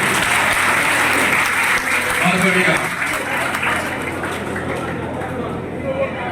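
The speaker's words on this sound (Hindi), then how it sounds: "तालियां बजाओ जी अनिल के लिए।" Crowd at a community association gathering in Sonipat claps loudly for a man named Anil, dense applause throughout while someone speaks briefly over it.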